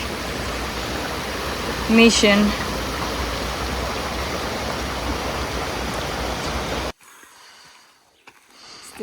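Steady rushing water of Jameson Creek on the Mount Solitary Loop fills the air, with a brief voice speaking over it, before the sound cuts to near quiet.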